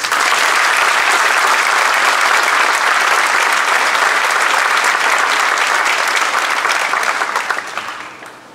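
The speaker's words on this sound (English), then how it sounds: "please give all a round of applause." Audience applause fills a 2019 middle school moving up ceremony, a dense, steady roar of many hands clapping that holds evenly before tapering off at the very end.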